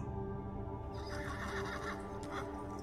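A horse neighs over the steady clip-clop of hooves drawing a wagon, the whinny rising midway above a continuous low rolling rumble, fairly faint overall.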